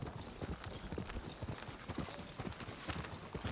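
Horse hooves clip-clopping in the video game Ghost of Tsushima, a steady rapid trotting rhythm of dull thuds over a dense background, with no talk.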